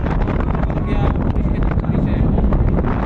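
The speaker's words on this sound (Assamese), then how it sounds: "প্ৰচণ্ড বতাহ বলিছে" Strong wind roars steadily across the microphone, a dense, rumbling gust that never lets up, with faint voices buried underneath.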